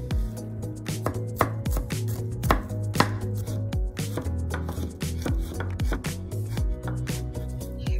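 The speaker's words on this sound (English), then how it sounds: "Crush the garlic and chop it finely." A knife finely chopping crushed garlic on a cutting board gives quick, crisp, close taps in uneven bursts that keep going without a break.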